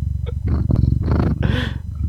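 A cat purrs close to the microphone in a steady rumbling rhythm, with a brief higher vocal sound partway through.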